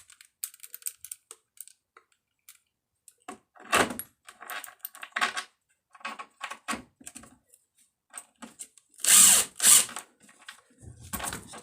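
Intermittent power drill bursts with whirring runs and pauses, plus scattered clicks and clatter of tools, close and fairly loud.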